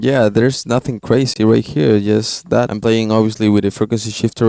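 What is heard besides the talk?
No distinct noise like a dog, phone or traffic.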